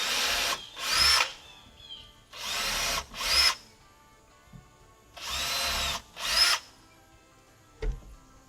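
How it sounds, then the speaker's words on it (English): A power drill pre-drills screw holes in wood for a deck bench, three pairs of short high whining bursts near the microphone, separated by quiet pauses, with a faint knock at the end. "I'm going to go ahead and pre-drill my holes, get my screws ready."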